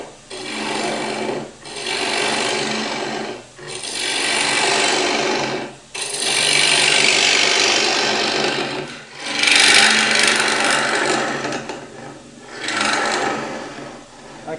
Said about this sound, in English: I can get stuck into that nice and quickly with a bowl gouge